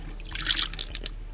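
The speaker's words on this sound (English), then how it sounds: "Let's go ahead and water it." Water poured or sprayed into a tarantula enclosure, a soft close splashing and trickling that swells briefly in the middle and fades, alone without voices.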